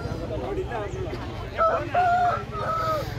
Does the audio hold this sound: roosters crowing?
yes